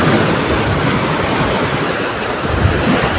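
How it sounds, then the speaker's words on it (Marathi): Surf pounds a Konkan seashore in a steady, loud, wash of breaking waves, with wind rushing across the microphone throughout and no speech. "जाम लाटा फुटत आहे."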